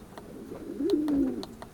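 Pigeons coo at a racing-pigeon loft, one clear low rolling coo swelling in the middle, with faint clicks and rustles around it and no talk.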